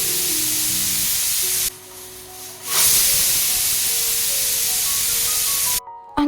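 Pressure cooker venting steam while cooking biryani, a loud sustained hiss that surges after a brief lull, with faint tonal ringing underneath, close by and with no talk.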